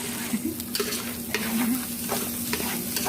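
Onions and spring onions hit a hot pan for fried rice, crackling in a bright steady sizzle while a spatula scrapes and tosses them in quick irregular strokes, close up and with nobody speaking.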